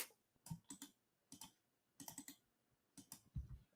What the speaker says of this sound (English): I'm just typing in all this stuff in our group